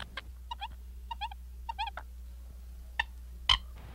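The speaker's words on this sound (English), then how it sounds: "This bird is called a coot" A coot in early spring calls in a few sharp, repeated bursts, short clipped notes spaced over a few seconds against a low steady outdoor hum, with one louder, harsher call near the end.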